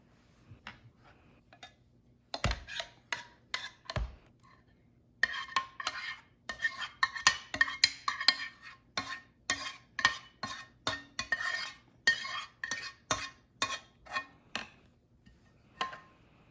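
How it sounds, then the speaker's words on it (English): Utensils scrape and clink against a pan as leftover polenta is transferred onto it, a run of sharp, closely spaced metallic scrapes and taps in a quiet kitchen. "So this polenta, since I didn't use all of it, I am going to put it on this pan."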